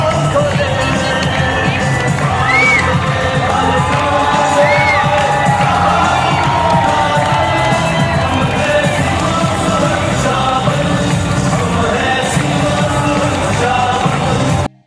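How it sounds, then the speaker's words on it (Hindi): A large parade crowd in India cheers and shouts Vande Mataram slogans, a dense continuous roar with whoops and rising yells, loud and close throughout, ending abruptly. "वंदे मातरम के स्लोगन्स लिटरली गेव गूज़बम्प्स."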